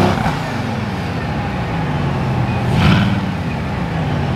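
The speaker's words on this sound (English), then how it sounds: "All right, Xander, we need light revs, baby revs." A Bugatti Chiron engine idles and revs up close, a low rumbling drone that swells into a louder roar midway, then settles back.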